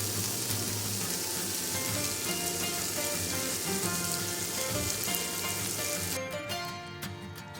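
Adobo flakes made from shredded chicken fry in cooking oil, giving off a steady, dense sizzle and crackle close by. Near the end the sizzle drops, with a few sharp scrapes of stirring.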